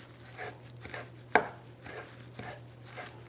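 A knife dices fresh parsley on a cutting board in a steady run of soft, close chops, one landing noticeably harder, with no talking.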